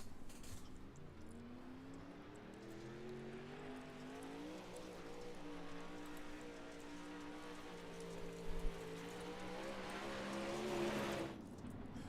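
Pro Late Model race car engine from the iRacing game at Cedar Lake, a steady rising and falling drone heard from moderately close, with a brief thump near the end and no talking.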